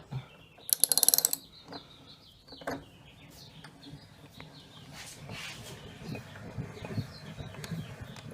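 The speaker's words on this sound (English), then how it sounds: "And then you can just take your ratchet," A ratchet wrench turned against a Ryobi R163 router table plate gives a quick loud burst of clicks near the start, then quieter intermittent ratcheting and metallic handling, with faint bird chirps in the background.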